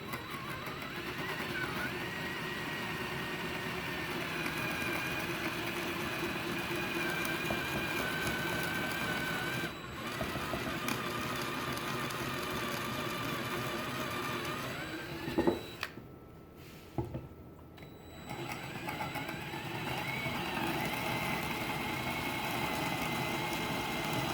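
A power drill bores dowel peg holes into a wooden footstool, a steady motor whine running for most of the stretch, briefly cutting out once and then stopping with a pause and a short knock before the drone resumes.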